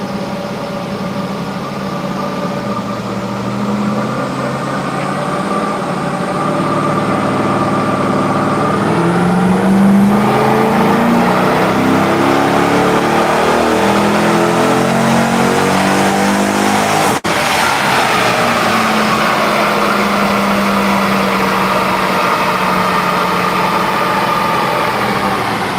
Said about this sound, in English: I'm just getting some engine run time here.